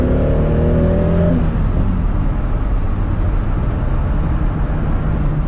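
Toyota Supra engine revs up in a rising whine, then settles into a loud, rough, continuous roar as the car accelerates; nobody speaks.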